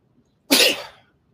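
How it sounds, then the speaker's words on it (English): A single sharp sneeze bursts out after a moment of quiet, close and loud, then fades quickly back to silence. "And I have to sneeze."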